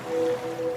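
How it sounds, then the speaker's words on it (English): Ocean waves wash in a soft, steady surf with a faint airy rush, used as a sound effect in an ad, alone with no talk. "now you're drifting asleep to the scent and sound of waves"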